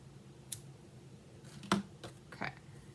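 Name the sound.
ribbon scissors cutting ribbon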